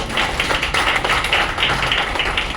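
A crowd claps steadily at a Tamil literary magazine's anniversary celebration, a dense, continuous patter of many hands held at an even level with no speech over it.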